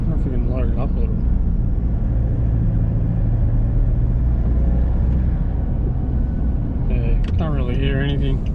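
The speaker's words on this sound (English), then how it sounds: "sounds like a standard turbo diesel to me" A Nissan D40 Navara turbo diesel engine fitted with a hot pipe runs at a steady low rumble while people talk over it nearby.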